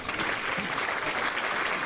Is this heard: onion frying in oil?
no